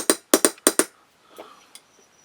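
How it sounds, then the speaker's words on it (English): A hammer strikes a steel punch to drive the slide stop into a Walther P88 Compact pistol: six sharp metallic taps in quick pairs, close and loud, then a few quieter handling clicks. "what you don't want to do is hammer it so far and then it protrudes out of here"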